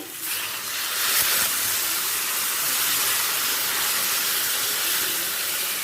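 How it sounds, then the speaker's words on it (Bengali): Water poured into sizzling poppy seed paste in a hot pan gives a loud, steady hiss and sizzle that swells after the first second and holds without a break. "এবার দিয়ে দেব জল"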